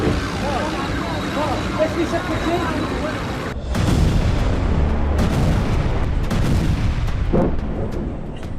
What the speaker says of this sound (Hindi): टैंक बमबारी करते हुए देखे जा सकते हैं